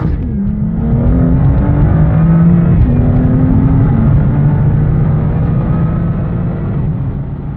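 A BMW M2 with a dual-clutch gearbox launches with launch control, its engine roaring loud and close as it climbs through several rising pitches with quick shift breaks, with no talking.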